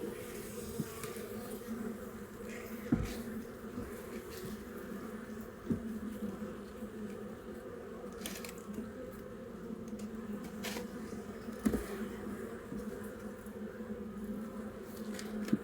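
A dense, steady drone of many honeybees buzzing at an open hive nearby, with occasional faint clicks and knocks, no speech.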